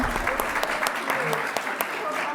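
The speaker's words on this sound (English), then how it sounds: "Can we have a round of applause for Aruna, who was running the show today?" A gathering marking Black History Month breaks into a short burst of audience applause, scattered individual claps standing out over a thinner crowd, with voices underneath.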